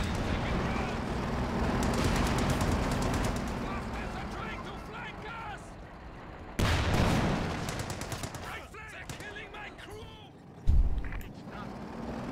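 Battlefield gunfire from the Company of Heroes 2 strategy game sounds as rapid machine-gun bursts and scattered shots under an excited commentator's voice. A sharp, heavy blast hits near the end.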